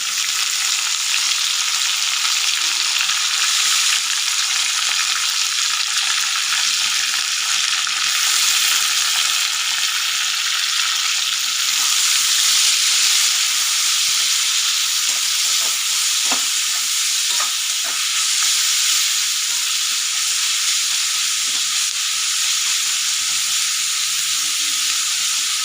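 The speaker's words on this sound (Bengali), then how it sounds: "পেঁয়াজটাকে আমি লাল লাল করে ভেজে নেব" Onions fry in hot oil until reddish-brown while a Bengali fish curry is prepared. A steady, loud sizzle and hiss runs throughout, with faint stirring clicks underneath and no talking.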